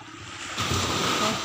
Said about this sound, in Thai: คลื่นสวยคลื่นสวย